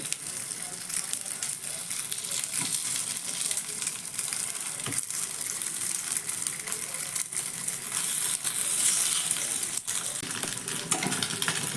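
Tiffin snacks shallow-fry in a little oil as they are turned over, giving a steady, fairly loud broadband sizzle with occasional soft clicks and scrapes throughout.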